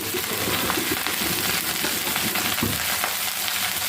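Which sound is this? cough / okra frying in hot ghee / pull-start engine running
okra frying in hot ghee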